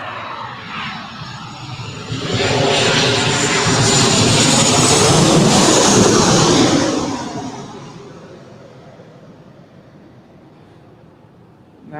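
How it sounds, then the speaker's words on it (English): A WestJet Boeing 737-700 airliner arriving from Vancouver roars past on landing, its jet engine noise swelling loud for several seconds in the middle and then fading to a lower rumble, with no talk. "1696 coming in from Vancouver on a Boeing 737-700."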